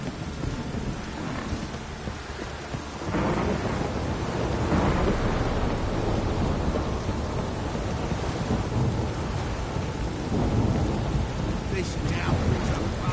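Heavy rain pours steadily outdoors while thunder rumbles low and long, the downpour swelling louder partway through and staying dense to the end, with no voices.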